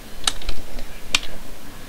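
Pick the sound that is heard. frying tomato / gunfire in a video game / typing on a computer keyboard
typing on a computer keyboard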